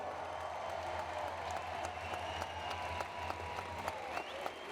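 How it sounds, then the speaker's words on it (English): An audience applauding former University at Buffalo men's basketball players at a 100-season recognition ceremony, a faint, distant, steady wash of clapping in a large hall with a low hum beneath. "Let's have a great round of applause for all these great former players"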